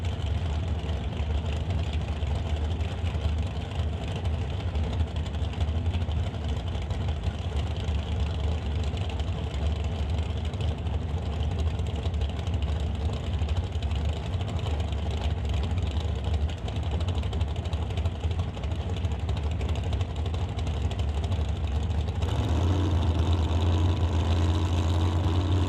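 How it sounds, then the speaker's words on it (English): A pair of drag racing dragsters at the Doorwarz 11 event roar steadily throughout, a loud, continuous low engine rumble that swells slightly near the end, with no talk over it. "Another pair of dragsters."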